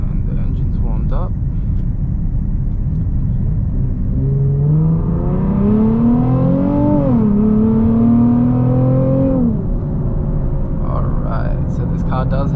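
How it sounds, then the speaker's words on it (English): A Nissan 370Z Nismo with a Valvetronic exhaust, engine warmed up, revs under steady in-car road rumble, the pitch climbing over several seconds and then dropping away. "And the engine's warmed up."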